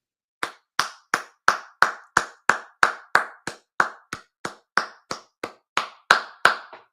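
One person imitates a polite golf clap on a sports talk show with about eighteen slow, evenly spaced single claps. The claps are crisp and close, with brief silence between them.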